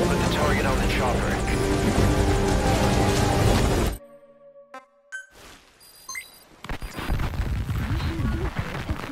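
Helicopter in the stealth game Metal Gear Solid Ground Zeroes, a loud steady rotor roar filling the first four seconds, then cut to quieter game sounds with tones and beeps before a dense roar returns, with speech over it.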